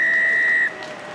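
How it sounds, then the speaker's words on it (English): A referee's whistle blows to end a rugby match between Dragons and Glasgow Warriors, one long, loud, steady shrill blast lasting over half a second before cutting off, leaving crowd ambience. "the whistle"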